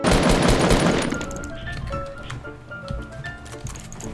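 Gunfire in a video game opens with a dense, rapid burst of automatic shots, then gives way to scattered single shots and softer game sounds.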